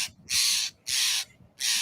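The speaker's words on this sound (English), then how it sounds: "You got pretty jays." Blue jays calling: three loud, harsh, raspy screeches in quick, evenly spaced succession, close and clear with no talk over them.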